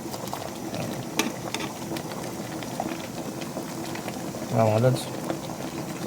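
Yellow corn cooking in a pot of boiling water, a continuous close bubbling hiss with a brief louder burst near the end, as someone speaks briefly over it.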